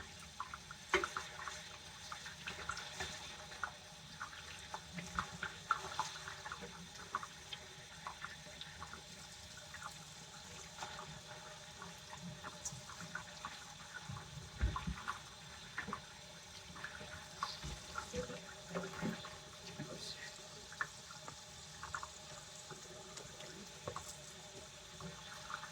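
A kitchen tap runs while leafy garden cuttings are rinsed beneath it, a faint, steady stream of water with small splashes and shifting flow, no voices.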